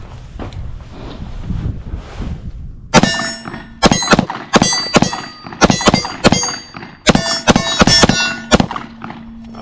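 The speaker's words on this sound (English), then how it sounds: "I'm going to get back to shooting" Pistol shots from a 19-ounce Smith and Wesson CSX fired at an outdoor range, loud and close, with about a dozen sharp cracks in quick clusters after a few seconds of quiet wind noise.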